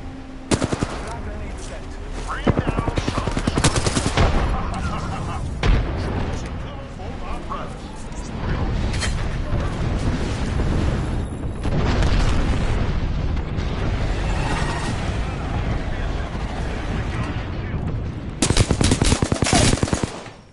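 Gunfire in Apex Legends during a PS4 match, with sustained automatic bursts and heavy impacts running almost continuously, loud and close, while players talk over the shooting.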